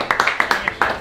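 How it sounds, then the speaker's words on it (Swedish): A small group claps enthusiastically for a few seconds, sharp, close handclaps coming quickly and slightly unevenly. "En applåd till oss allihopa, eller till er."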